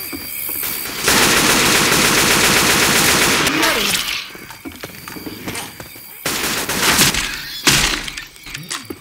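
Loud, rapid automatic gunfire from the Left 4 Dead 2 video game, a sustained burst of shots followed by scattered bursts and impacts, with game voices calling out between volleys.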